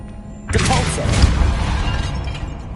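A Depulso spell cast in Hogwarts Legacy lands as a sudden, loud shattering burst with a crashing, rumbling tail that fades over a couple of seconds.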